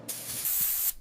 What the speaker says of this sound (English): Applying the first delicate coat. Layer by layer, carefully building color.